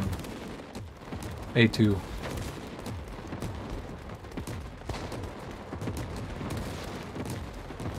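Gunfire in a World War 3 video game, a sharp burst of shots around the middle followed by scattered distant pops and rumbling explosions under ongoing speech.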